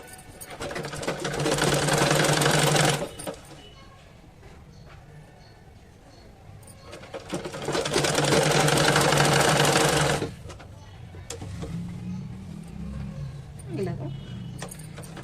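A sewing machine stitching a folded seam on a baby's top, running in two long loud steady bursts with a quieter stretch between them and softer handling noise at the end.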